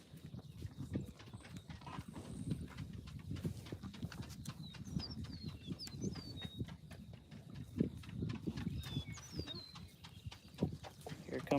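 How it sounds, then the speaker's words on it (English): Longhorn heifers walking up from a stock tank on a farm, a steady scatter of soft hoof thuds and shuffles nearby, with birds chirping faintly in the background. "Here comes the heifer gang, coming up from the old stock tank"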